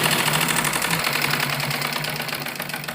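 A sewing machine stitches a double seam on a heavy-size palazzo pant, a fast, even mechanical rattle running steadily and close for the whole stretch.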